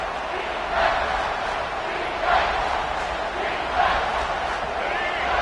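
A stadium crowd at a Texas college football game roars continuously with repeated swells of loud cheering, a dense, distant wash of many voices.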